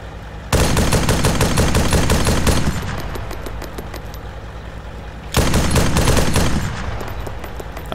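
Loud, sustained bursts of automatic gunfire from a combat video game, two long rapid-fire volleys separated by a short lull, with no voices during the firing.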